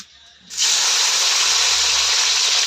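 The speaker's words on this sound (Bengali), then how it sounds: "প্রথমে আমি বিনসটা ভেজে নেবো" Green beans dropped into hot oil, with cardamom and cinnamon fried just before, for chilli chicken and fried rice; after a quiet half second a loud, dense, steady sizzle bursts in and holds at full strength without talk.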